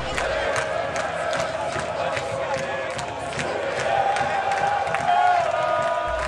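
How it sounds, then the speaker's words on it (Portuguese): Guarani football supporters cheer and shout in a stadium during a Série B match, a steady, dense crowd roar with whoops and surges that swell louder toward the end. "Olha a alegria da torcida bugrina, olha aí a Cíntia fazendo festa com a sua galera"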